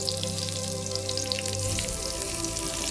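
Carrots and onions caramelizing in a very hot pan give off a steady, bright sizzle with a crackling spatter. The sound is close and continuous, and no voices are heard.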